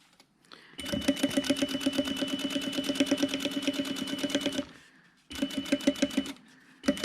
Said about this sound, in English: I am going to start with a few stitches forward and then back